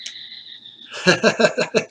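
A pet bird mimics human laughter in a rapid run of about eight bright, chirpy bursts, close and clear, after a shrill drawn-out whistle.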